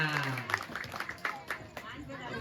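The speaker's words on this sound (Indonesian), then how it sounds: "tepuk tangan buat Dek Gilang" An outdoor temple crowd at a Balinese comedy show claps for a child, scattered uneven hand claps with crowd murmur, fairly faint and mixed with talk.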